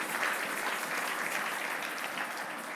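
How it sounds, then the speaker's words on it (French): A church congregation at a Sunday service applauds steadily, a dense, even wash of clapping that holds at the same level throughout without any voices. "Est-ce qu'on peut acclamer la parole?"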